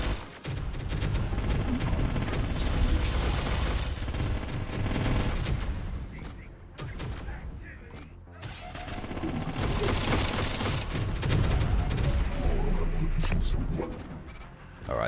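A belt-fed gun in Terminator Dark Fate – Defiance fires in long, dense continuous bursts. The near-constant loud rattle briefly drops out twice, and voices are faintly present under the roar.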